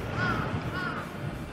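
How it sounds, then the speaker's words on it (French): Crows caw on a street in Japan, two drawn-out calls at moderate distance over a steady background of city ambience. "Vous entendez les corbeaux?"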